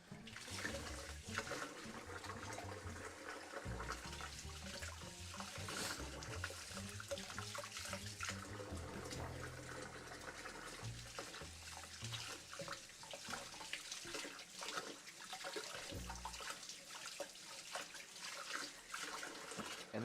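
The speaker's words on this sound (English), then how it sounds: "And I need to wash our other whisk." A whisk is rinsed under a running kitchen tap, with steady water splashing and trickling throughout along with faint clinks of handling, heard close and without speech.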